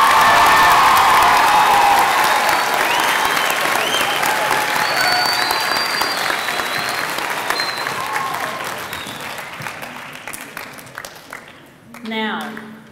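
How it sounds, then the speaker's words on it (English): A school auditorium crowd applauds staff members at a 2016 Idaho Teacher of the Year ceremony: loud, dense clapping with a few cheers that gradually thins and fades away, followed by a brief voice at the end. "Let's give them an applause."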